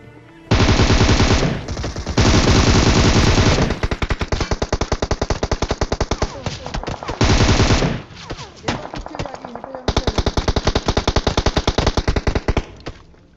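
Gunfire in a battle royale video game: loud, close automatic bursts, some long and sustained, others choppy and rapid, separated by brief pauses.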